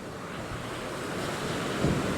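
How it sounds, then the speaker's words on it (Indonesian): Large ocean waves crash and surge near a sea cave on a southern coast, a steady roaring wash of surf with wind buffeting the microphone, swelling slightly louder toward the end. "ini ombaknya gede banget nih"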